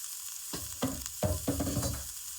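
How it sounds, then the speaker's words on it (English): Onion frying in hot oil in a cast iron skillet, a steady bright sizzle with several stirring scrapes and bursts of crackle, close up and with no talk. "I've just got some oil in the pan. Throw in my onion. I'm using a cast iron skillet."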